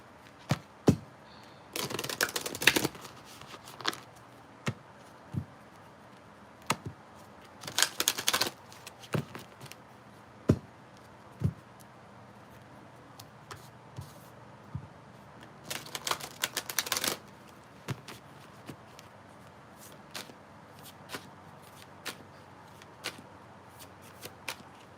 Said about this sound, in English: Let's shuffle these. Let's give them a good shuffle.